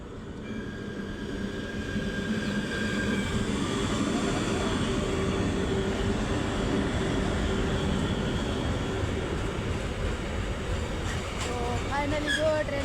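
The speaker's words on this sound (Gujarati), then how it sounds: "ફાઇનલી જો ટ્રેન જાય છે" A train rolls past at close range, with a steady, dense rumble and clatter of railcars and wheels on track that lasts throughout, plus faint squeals near the end and a voice now and then.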